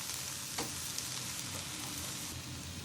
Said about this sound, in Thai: เติมน้ำสะอาดลงไปนิดนึงนะคะแล้วผัดไปเรื่อย ๆจนกว่าเขาจะสุกนะคะ ตามด้วยผงกะหรี่ แล้วก็นมจืดนะคะ